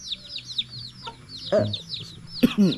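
Chickens cluck and chirp nearby in short repeated calls, with a few louder, deeper clucks standing out over quiet background chatter.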